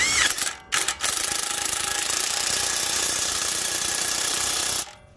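Ratchet wrench tightening a nut during a left shock absorber replacement on a 2014 Dodge Grand Caravan 3.6, a loud, steady clicking rattle that runs for several seconds after a few short pulls.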